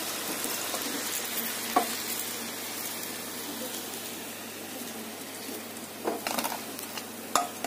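Slices of brinjal sizzle steadily in hot oil, a continuous crackling hiss with occasional clinks of a utensil, close by and fairly quiet.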